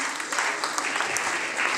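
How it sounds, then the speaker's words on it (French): Brief audience applause at a school spelling bee, a dense, moderate wash of clapping from a crowd heard at a middle distance, lasting under two seconds with no talk over it. "on l'applaudit."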